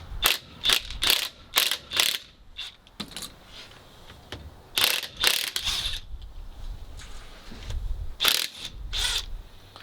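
A socket wrench ratchets on rusted bolts of a 1950s Massey Harris tractor, giving loud bursts of rapid clicking in several separate runs with short pauses between them, close up and with no talking.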